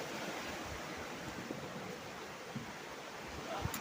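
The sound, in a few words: ocean waves breaking on shore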